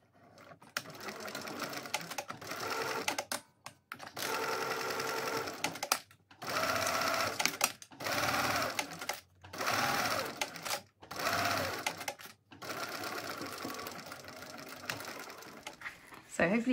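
A sewing machine basting a seam across a handbag runs in several short bursts of rapid stitching separated by brief pauses, close and clear, with a voice talking between runs.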